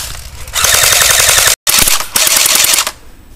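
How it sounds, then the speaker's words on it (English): Gear wheel of an airsoft M14 AEG magazine being wound, a loud, fast continuous rattling whir in two long bursts with a brief pause between, very close, no talk. "You close the chamber and then wind the gear in order to push the BBs up into your gun"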